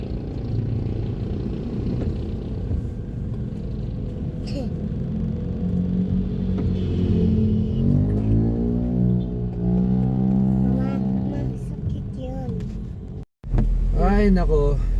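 A car rolling through slow traffic in Bambang, a steady low engine and road rumble heard from inside, with people talking over it and a brief break near the end.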